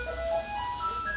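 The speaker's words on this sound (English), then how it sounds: "This is the sound of a Taiwanese garbage truck." A Taiwanese garbage truck plays its tinkling, ice-cream-van-like melody outdoors, a loud electronic tune over low engine rumble with no one talking.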